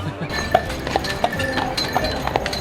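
Horses pulling a carriage through a festival street, their hooves clip-clopping in a steady uneven rhythm over a busy crowd hum, fairly close and loud.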